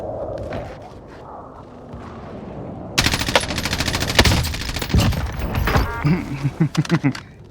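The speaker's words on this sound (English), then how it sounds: "when he's shooting at a wall" Rapid automatic gunfire from a video game during anti-recoil testing, starting abruptly after quieter ambient sound and continuing in dense bursts, ending in a series of distinct separated shots.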